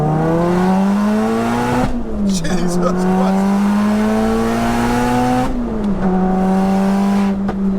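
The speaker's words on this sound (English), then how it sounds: "Let's get a second gear pull." A 601bhp four-wheel-drive converted Cupra R pulls hard in second gear, its engine note climbing steadily to a high rev, dropping briefly at a shift, then climbing again, loud and close inside the cabin while a man exclaims.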